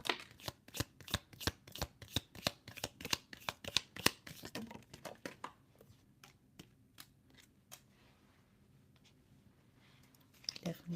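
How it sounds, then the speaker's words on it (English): Tarot cards are shuffled close up in quick crisp riffling flicks, a steady rapid run of snaps that slows into sparse clicks and soft rustles, then resumes briefly near the end, with quiet talking. "I was just trying to shuffle your cards for the tea leaf."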